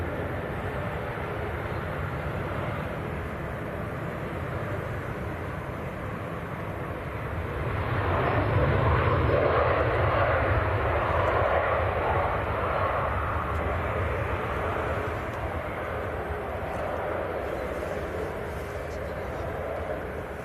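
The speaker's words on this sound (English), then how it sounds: "Next to land, we've got EasyJets coming in from Amsterdam." An EasyJet airliner from Amsterdam comes in to land at Manchester Airport, a broad jet roar that swells in the middle and then settles into a steady background drone, with people chatting nearby.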